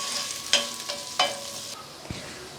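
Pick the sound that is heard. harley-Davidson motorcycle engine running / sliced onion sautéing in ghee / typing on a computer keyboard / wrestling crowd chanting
sliced onion sautéing in ghee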